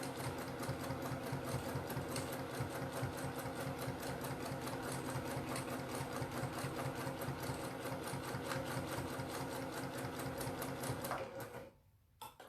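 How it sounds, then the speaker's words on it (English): A sewing machine doing free motion quilting, stitching words onto fabric, runs at a steady fast whir with a rapid even stitch rhythm, close and loud, then stops abruptly near the end. "so now I've got the first two words stitched on there"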